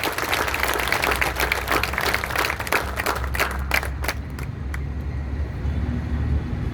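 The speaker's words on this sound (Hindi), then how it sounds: "जोरदार से तालियां बजाइए" Dense audience applause at a political gathering rings out loud at first, then thins and fades, leaving a low rumble of traffic-like background noise.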